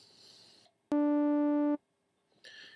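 A steady oscillator tone from a Subtractor synthesizer holds for under a second, rich in evenly spaced harmonics, with faint sounds before and after.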